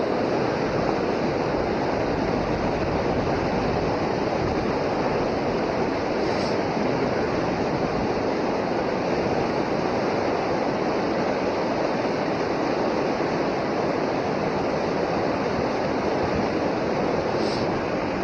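White water rushes below the South Elgin dam on the Fox River in cold conditions, a loud, unbroken roar of churning water that holds constant from start to finish, with no voices.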